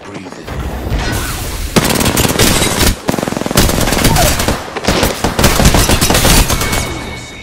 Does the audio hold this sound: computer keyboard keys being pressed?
no